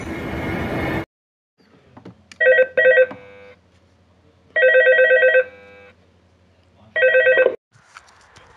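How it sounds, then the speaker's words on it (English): In a horror video game set in a night-shift office, a telephone rings in three loud, clean bursts, each a rapid double trill, separated by near-silence. "the phone call's coming on in a minute, you have to listen to it."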